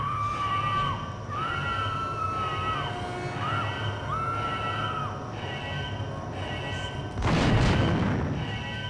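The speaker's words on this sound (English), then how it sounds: "That was a grenade launcher that guy has, not a shotgun" A grenade launcher fires in System Shock 2, landing as a single sharp, heavy boom near the end, after a stretch of electronic warbling tones and a steady mechanical hum.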